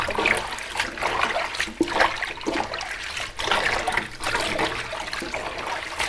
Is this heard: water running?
yes